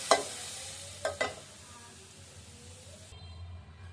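Leafy greens with garlic are stirred in a hot pan, a few scraping clatters of the spoon over a soft, continuous sizzle that fades toward the end.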